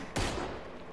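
A single loud, close gunshot from the Red Dead Redemption 2 video game fires near the start, its echo ringing out and decaying over the following moment, with the onset of another shot at the very end.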